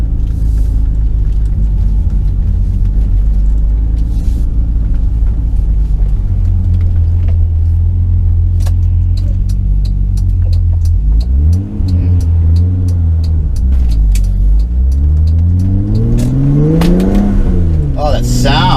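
1988 BMW 325iX engine revving up to a loud, rising mid-pitched howl, close and prominent over a steady driving rumble, with the engine note climbing several times toward the end.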